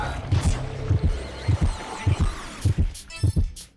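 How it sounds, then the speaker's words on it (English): Heartbeat effect from the game Death End Re;Quest: Code Z at low sanity: steady, loud double thumps repeating about every 0.6 seconds, close and dominant over a faint background hum. "when your sanity is really low you start to hear something like a heartbeat, but it cracks the general audio"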